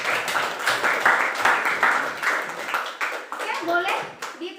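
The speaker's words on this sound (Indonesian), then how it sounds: "Kita beri tepuk tangan." A classroom group gives applause at the end of a school presentation, with steady clapping hands from several children sustained for a few seconds under a little chatter.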